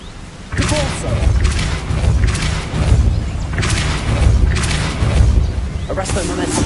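A Depulso spell cast in a Harry Potter video game: a series of loud, deep booming thuds and bursts that repeat every second or so, over a steady rumbling bed, with a voice speaking.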